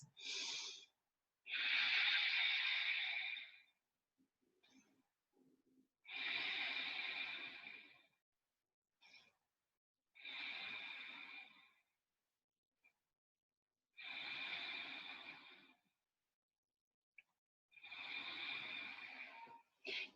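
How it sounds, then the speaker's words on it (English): Ujjayi breathing during a yoga session: five slow, audible breaths, each a steady airy rush lasting about two seconds, separated by long silent pauses, close and alone. "You can reconnect with that Ujjayi breath that we had at the beginning"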